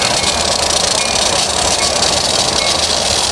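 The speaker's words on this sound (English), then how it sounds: "It's a very loud hissy spinning car. It's the engine." A loud, steady hissing and whirring of a rail car's engine spinning at a commuter station during rush hour, close by and continuous without a break.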